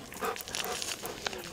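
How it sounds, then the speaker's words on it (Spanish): A truffle-hunting dog searching for truffles in Navarra, Spain, with its snuffling, panting and small movement noises heard close up throughout, mixed with soft outdoor rustle. "Vamos con los perritos a buscar trufas"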